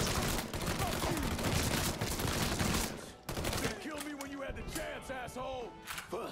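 Gunfire from a Thompson-like gun in the Mafia III video game, a dense volley of rapid shots for about three seconds, followed by scattered bursts and clatter under faint game sounds.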